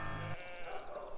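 A goat bleats once, loud and close, a wavering nasal cry that starts after a short tonal lead-in and fades out, with no talking over it.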